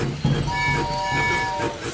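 A cartoon train in Peppa Pig rumbles past with a rhythmic chug and a short toot, alongside brief voices.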